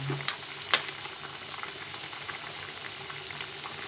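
Ridge gourd dal (lentil curry) bubbles steadily in a pot, with close, continuous boiling and soft popping and a couple of sharper clinks near the start.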